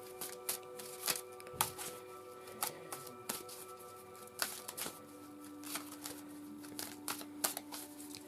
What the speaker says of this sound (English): I'm just giving this Shadowscapes deck one last bit of shuffling